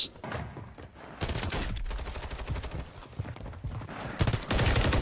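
DG-58 burst rifle firing in Call of Duty Warzone, rapid three-round bursts crackling loud and close in repeated volleys with brief gaps, mixed with other game sounds.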